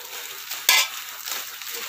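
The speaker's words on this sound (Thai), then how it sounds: "คั่วค่ะ" Bamboo shoots are dry-roasted in a pan and stirred, with a soft constant sizzle and one sharp scrape of a utensil across the pan in a short close burst.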